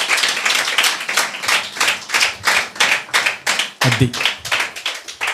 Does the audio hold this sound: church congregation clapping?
yes